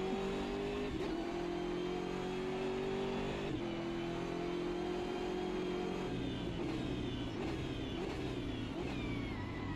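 A BMW GT3 race car in the Automobilista 2 sim racing game accelerates hard, its engine note climbing steadily through the gears with brief dips at each shift, loud and continuous.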